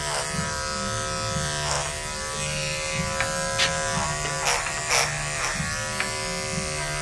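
Electric clippers trim the coat of a ShiChi dog, buzzing steadily and close up throughout, with the tone shifting slightly as the blade moves through the hair.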